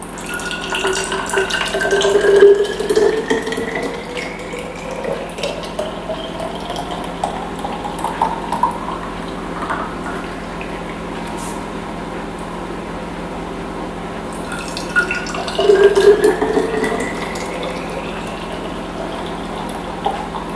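Homemade sweet chilli sauce is poured into bottles in a home kitchen, giving a steady liquid trickle that rises in pitch as each bottle fills, with two fuller gurgling surges partway through.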